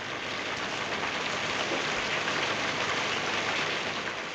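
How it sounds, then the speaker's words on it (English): Heavy rain pours outside during a scene in the film Twelve Angry Men, a dense, steady, even hiss that fills the whole stretch with no voices. "rain, pouring outside, and even drowning out some of their conversation"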